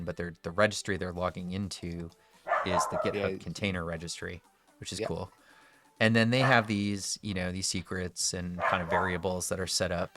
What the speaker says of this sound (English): Apologies for the dog barking.